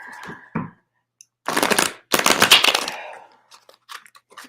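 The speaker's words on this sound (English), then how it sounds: "I'm gonna hard shuffle because that's a double no." Hard shuffling of a deck of oracle cards: two dense riffling bursts, the second longer, close and fairly loud, followed by a few light card taps.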